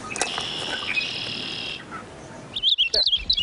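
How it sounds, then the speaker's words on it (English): A purple finch sings a bright warbling phrase of rapid chirps and trills, moderately close, then a second burst of quick notes, over a soft outdoor hiss with no talking. "Purple finch."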